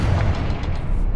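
Confringo explosive spell cast in Hogwarts Legacy, a short, loud booming blast with deep rumbling low end and a crackling upper layer that holds steady throughout.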